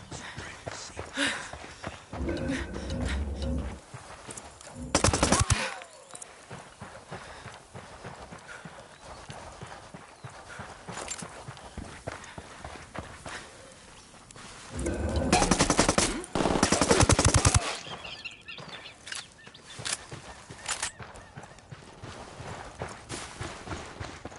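Gunfire bursts in the Ghost Recon Wildlands game, two loud sustained volleys around five seconds and again near fifteen to eighteen seconds, over galloping horse clip-clop and ambient game noise.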